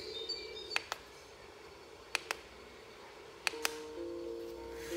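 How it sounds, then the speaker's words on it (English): Chirping birdsong played from an essential oil diffuser: a few short, bright tweets in paired bursts, then a brief warbled call, faint and close in a quiet room. "Birds."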